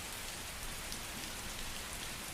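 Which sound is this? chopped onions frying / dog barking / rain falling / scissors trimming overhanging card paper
rain falling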